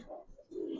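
A young silver pigeon coos softly and briefly, close by and faint, in a short low murmuring call.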